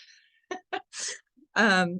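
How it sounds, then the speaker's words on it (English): A single short, sharp dog sneeze bursts out after a few quiet breathy snorts, close by, followed by a voice. "my dog just sneezed"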